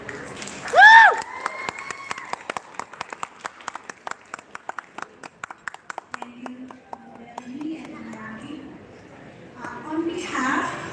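A brief whoop of cheering opens the applause at the Philippine National Day Ball, followed by scattered, sparse claps that thin out over several seconds. Murmured voices and movement take over toward the end.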